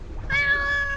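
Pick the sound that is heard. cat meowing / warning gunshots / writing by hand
cat meowing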